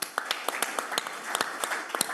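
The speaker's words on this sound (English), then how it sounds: "Give yourselves a round of applause" Scattered clapping from an audience at the close of a leadership talk, a thin, uneven patter of separate hand claps rather than a full roar.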